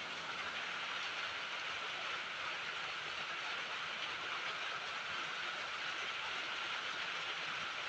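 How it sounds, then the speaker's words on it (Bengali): Peanuts frying in hot oil in a wok for a cabbage curry, a steady, even sizzle and crackle that holds at moderate level throughout, with no voices. "এদিকে বাদাম নিয়েছি, বাদামগুলিকেও ভেজে নেব।"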